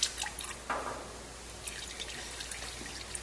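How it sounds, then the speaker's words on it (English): Oil drains from a fryer tank, a soft intermittent trickle with scattered drips, faint and close in a quiet kitchen setting. "Let the fryer drain."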